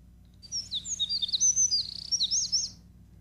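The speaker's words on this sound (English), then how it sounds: "is a canary bird song, and if you just play it, it sounds like that." Canary song played back from a recording: a rapid, high twittering run of chirps and trills lasting about two seconds, bright and clear over a faint low hum, with no talking.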